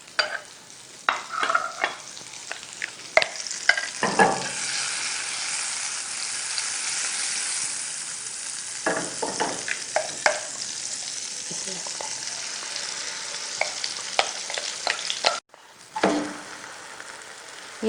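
Butter sizzles in a pan as a bread slice fries for an egg sandwich, a close steady crackle punctuated by sharp spatula clatters and scrapes, with a brief pause near the end.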